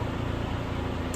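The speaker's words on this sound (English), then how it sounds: "This is my torch. It's oxygen and propane, which you can probably hear it running in the background." An oxygen-propane torch runs with a steady, unbroken roaring hiss that stays at an even level throughout, with no voices.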